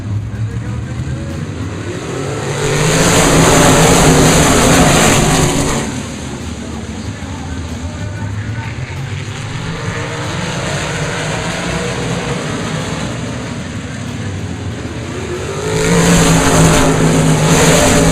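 Race cars roaring at a drag-strip style start in central east Florida, loud broadband engine bursts swelling around the launch and again near the end over steady crowd and track noise, with a voice talking in the background.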